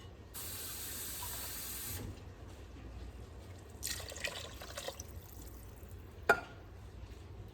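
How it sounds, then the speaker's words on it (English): A can of water is poured into a cooking pot of corn, tomatoes and potatoes, giving a steady splashing gush, then a pause and a second shorter pour with drips and a sharp clink near the end. "Going to go ahead and add 1 can of water."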